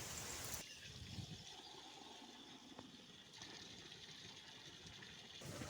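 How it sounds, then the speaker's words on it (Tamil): Chicken gravy boiling in a covered pot, a constant soft bubbling and watery rush heard close and fairly quiet, with no voices. "நல்லா கொதிச்சிட்ருக்கு."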